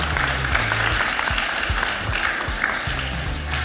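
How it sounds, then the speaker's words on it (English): Conference audience applauding at the close of a day's session, a dense, even wash of clapping throughout with a low hum underneath. "So a round of applause to all of you"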